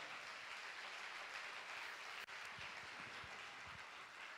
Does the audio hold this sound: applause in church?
yes